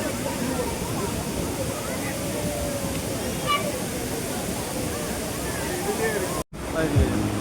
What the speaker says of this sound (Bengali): এটা বাঞ্জাপি ওয়াটারফলসের পেছনের দিকটা